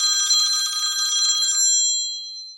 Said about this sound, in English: Phone call. Who would be calling me?